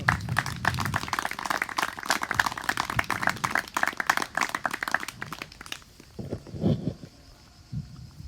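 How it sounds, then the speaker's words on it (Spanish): A church congregation claps loudly in a fast, rhythmic beat for about six seconds, then the clapping stops abruptly and faint speech follows. "Démosle fuertes palmas al Señor."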